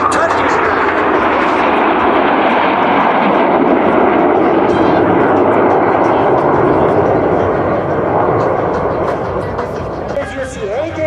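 Turkish Stars aerobatic jet aircraft flying in formation roar overhead in a loud, steady, dense jet rumble that fades slightly toward the end, with a voice faintly audible beneath.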